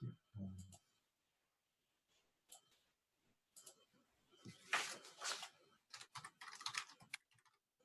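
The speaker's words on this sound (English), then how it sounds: "Certainly typing there." Rapid clicking of computer keyboard typing in a quiet room, coming in irregular bursts of keystrokes, close and moderately loud, with brief pauses between flurries and a short voice at the start.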